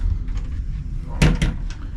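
A closet door in a Carnival Firenze inside cruise cabin swings open or shut, a short knock-and-clatter burst in the middle over faint room hum.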